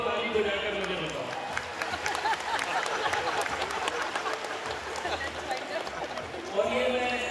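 An audience at an outdoor Ramlila event in New Delhi claps in agreement, a dense, continuous patter of many hands that holds for several seconds, with voices rising at the start and end.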